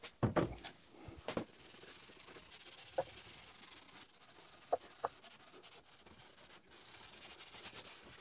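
Plywood shelves rubbed down by hand before a beeswax finish, heard as quiet, intermittent scratchy sanding strokes with a few soft knocks in a still room.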